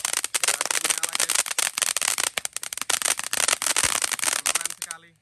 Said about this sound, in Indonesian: Air mercon kerucut gunung terbesar. Berhasil menyala guys.